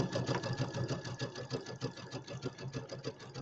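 Sewing machine running a zigzag locking stitch on a settee pillow, a close, fast, even mechanical chatter with regular pulses that stays at a moderate level and carries no talk.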